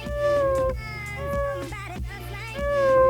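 An electric guitar bends and slides its notes to mimic a tabby cat's meow, producing a few drawn-out, wavering cries over a steady low backing, close and prominent.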